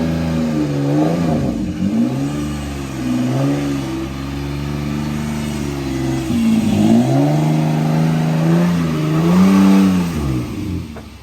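A Nissan G35 car engine revs in repeated rising and falling swells as it pulls onto a driveway, loud and close, with a deep, throaty tone and no talking.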